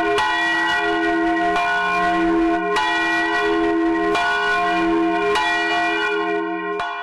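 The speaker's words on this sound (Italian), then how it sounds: "una ricorrenza che si è chiusa con il suono di quella campana che la furia delle acque portò via dal campanile del paese." The old bell of Longarone's former church tolls at a memorial ceremony, strong repeated strikes roughly every one and a half seconds with long ringing overtones, close and loud with no talk.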